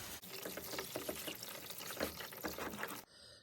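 Water sloshes and pours while ore is panned for gold, a close, busy splashing and trickling that runs steadily for about three seconds and then stops abruptly.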